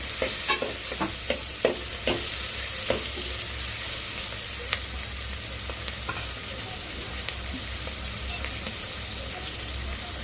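Onions frying in a pan for a Telugu-style curry, a steady sizzle running throughout, broken by several sharp scraping stirs near the start and fewer later.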